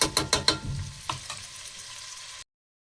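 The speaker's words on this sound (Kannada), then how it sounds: "ಆನಿಯನ್ ಫ್ರೈ ಆಗಬೇಕು ಸ್ವಲ್ಪ" Onions frying in a pan, a few quick stirring scrapes and knocks up front over a soft sizzle that thins out before cutting off abruptly into silence.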